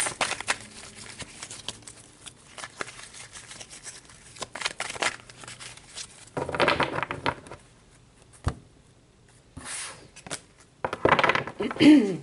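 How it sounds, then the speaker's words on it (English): Papery riffling and soft slapping of tarot cards being shuffled in short bursts, close up, with a few quiet pauses between handfuls. "let's shuffle these up for you"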